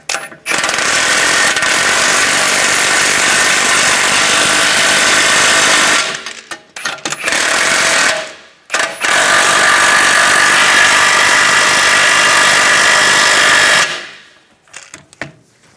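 A power tool tightens wheel-style nuts in long, loud, continuous bursts of rattling impact whirr, three runs broken by short pauses, close and dominant.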